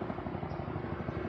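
A helicopter overhead, its rotor giving a steady rapid thumping chop, continuous and moderately loud throughout the short moment.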